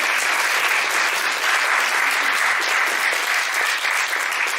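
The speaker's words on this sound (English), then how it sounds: "if I can just get a round of applause for all of our speakers today who kindly given up their time" Steady, loud audience applause in a conference hall after a healthcare quality improvement session, dense even clapping sustained throughout with no speech.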